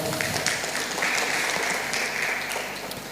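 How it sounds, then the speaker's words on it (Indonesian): Audience applause for Pak German at a women's MSME focus group discussion, a steady moderate clapping from a seated crowd that fades slightly toward the end. "Tepuk tangan untuk Pak German."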